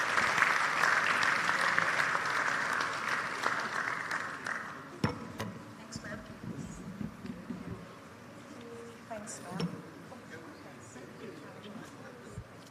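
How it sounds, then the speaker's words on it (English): An audience at a retail congress applauds a panel, dense clapping loud at first then thinning and fading into scattered claps and murmuring voices. "Let's give this beautiful panel a round of applause."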